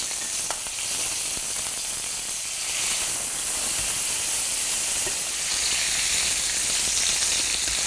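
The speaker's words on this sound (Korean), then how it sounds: "미리 준비한 손질한 오리 가슴살을 넣어줄게요. 이제 뒤집어 줄게요." Duck breast sears in a hot pan with a continuous loud sizzle and crackle of fat, steady and close throughout.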